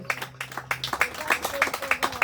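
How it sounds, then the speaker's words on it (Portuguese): A church congregation at an anniversary service claps in a quickening rhythm of distinct, evenly spaced hand claps at moderate distance, with a sustained voice or tone fading out at the start. "Você pode aplaudir ao nome desse Deus que é poderoso"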